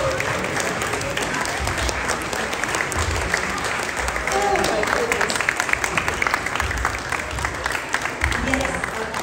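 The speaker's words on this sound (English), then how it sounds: "let's give a round of applause for our mothers" A church congregation applauds mothers at a Mother's Day service, a loud, continuous wash of clapping that lasts the whole stretch, with scattered voices and cheers mixed in under it.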